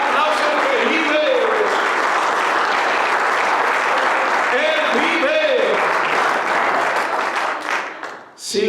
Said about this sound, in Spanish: Dale fuerte ese aplauso que vive.